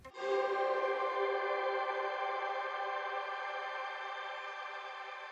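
A single sustained guitar tone drenched in shimmer reverb rings out alone, blooming into a bright, dense wash of high overtones that slowly fades while still sounding at the end.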